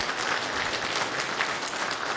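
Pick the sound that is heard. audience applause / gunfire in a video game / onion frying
audience applause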